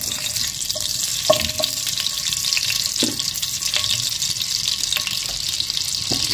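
Butter and oil heating in a pan give a continuous close, even sizzle and hiss, with a few faint metallic taps and clicks scattered through it and no talking.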